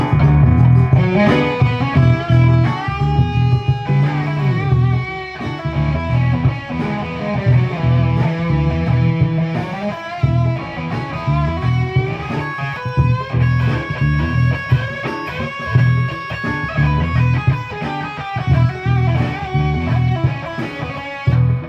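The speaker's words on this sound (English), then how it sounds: "you start with my major pentatonic scale, it would sound like this" A guitar plays a melodic major pentatonic run of single notes over a steady classic rock backing groove, loud and continuous without any talking.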